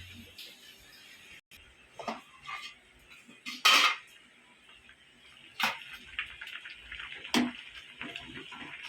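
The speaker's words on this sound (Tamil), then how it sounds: "தட்டு போட்டு மூடிடலாம்" A metal plate is set over a pot of sambar made with radish, raw mango and brinjal in a home kitchen, sharp metallic clanks and scrapes in a few bursts over running water and faint kitchen clatter.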